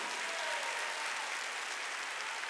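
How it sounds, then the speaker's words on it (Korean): A congregation at a Korean church Sunday worship service claps together in a dense, steady wash of applause that holds at an even level throughout, with no voices over it. "내가 언제 박수 치랬어? 깨달았으면 세게 치라고."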